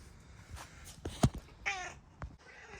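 A neglected neighborhood cat meows in a garage during repair work on a 2006 Honda Ruckus scooter, a few short, fairly faint meows and small thumps nearby, no one speaking.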